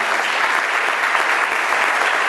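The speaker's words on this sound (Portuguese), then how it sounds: "Vamos saudar o Senhor com palmas em nome de Jesus." A church congregation claps together at a tenth-anniversary service, dense and loud, a continuous wash of applause with no pauses.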